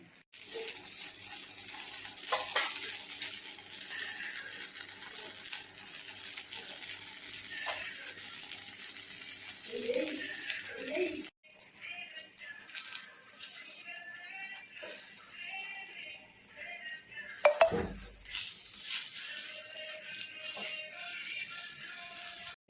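Steady soft sizzling of an instant wheat flour dosa frying in oil on a pan, continuous and close, with occasional scraping and clatter from a spatula.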